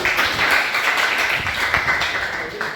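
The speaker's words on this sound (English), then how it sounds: "Give yourself a round of applause" Classroom applause for a student's correct answer in a biology lesson, a steady, dense patter of many hands clapping close by for a few seconds.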